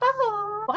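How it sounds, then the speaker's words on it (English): A pet cat at a closed door trying to get into a room, giving one drawn-out, wavering meow close by, followed by a brief rising cry. "That's my cat trying to get into the room."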